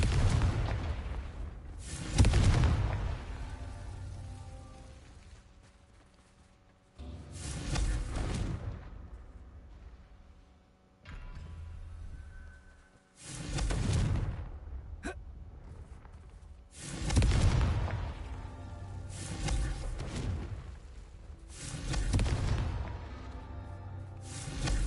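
Explosions from the Confringo fire spell in the Hogwarts Legacy video game, about six heavy booms at irregular intervals, each swelling loudly and then rumbling away.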